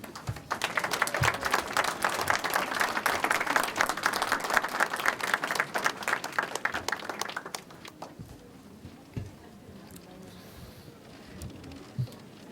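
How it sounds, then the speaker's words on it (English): Sustained crowd applause at a graduation ceremony for several seconds, dense and steady, then tapering off into quieter room noise with a few scattered claps. "give them a big applause"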